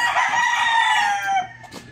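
Chickens and roosters at a chicken farm, with one rooster crowing loudly and close for about a second and a half, then a few short clucks and scattered farmyard noise.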